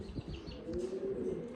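Pouter pigeons coo in low, rolling tones, held fairly steadily close by and alone, with faint chirps and a soft flutter in the background.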